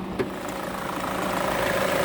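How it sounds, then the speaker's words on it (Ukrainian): A Peugeot 3008 with a 1.6 petrol engine idles under the open bonnet, a steady, even low hum close by with a faint click at the start and no talk. "Чуєте, двигун рівненько працює, муркоче."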